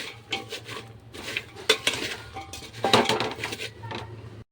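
Peanuts roast in a pan, rattling and clattering in loud irregular bursts as they are tossed and stirred, with metallic clinks and scrapes up close and no talking.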